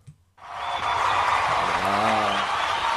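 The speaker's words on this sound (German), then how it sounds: "Aber was wir an der Stelle vielleicht auch einfach mal uns geben sollten, wäre ein Applaus, oder?" Applause from a small group in a casual German talk-show setting, starting abruptly after a brief silence and continuing as steady dense clapping; a short tonal sound briefly rises near the end.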